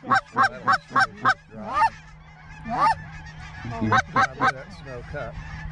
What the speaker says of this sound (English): Lots of birds coming.